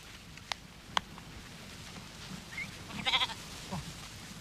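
Sheep rounded up for shearing on a family farm give a few faint, distant bleats over quiet outdoor background noise, with sharp clicks early on.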